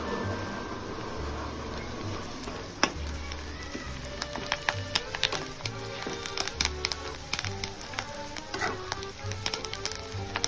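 Garlic and curry leaves frying in a pan crackle and sizzle with sharp, irregular pops over a steady hiss, joined by a low intermittent hum and no talk.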